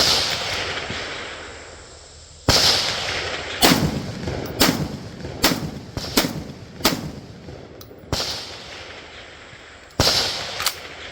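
Shotgun blasts from a Mac 1014 firing Federal Upland 7.5 shells at 1,400 feet per second: about eight sharp, loud reports in irregular bursts, some fired in quick succession, with brief echoing tails between them.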